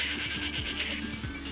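An angry man-goat in the video game Guacamelee lets out a short, harsh, quavering bleat, loud and close, in a brief burst of game audio.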